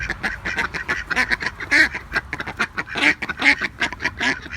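Domestic ducks, including a drake, quacking beside their small backyard garden pond, a noisy, overlapping chorus of loud, close calls that keeps going without pause.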